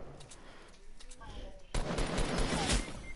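Gunfire from a sniper rifle in the video game Fortnite, a sudden loud burst that cuts in partway through and stays dense and noisy to the end, after a quieter stretch of game sounds.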